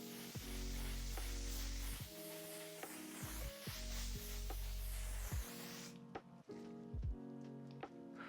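A makeup finishing setting spray hisses in a long, continuous spray close to the mic for about six seconds, with a faint soft hum beneath it, before fading to quiet handling noise.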